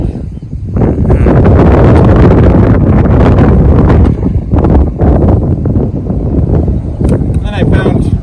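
Strong outdoor wind buffets loudly and continuously against the microphone beside a ladder where protective covering is being stapled onto young tree branches, with brief, quieter lulls near the end.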